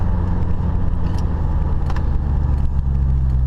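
Car engine pulling hard in passing gear, a loud steady low drone of acceleration heard from inside the car, with no speech.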